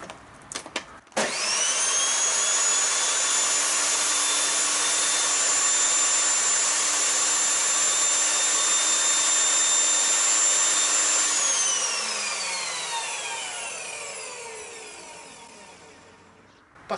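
An under-table circular saw, previously failing to switch on, starts with a click, whines up to a loud, steady motor hum for about ten seconds, then spins down gradually in a falling drone.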